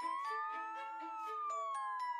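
Wailing emergency siren of a fire truck, a steady sweeping tone rising and falling with strong harmonics, loud and close throughout with no talk.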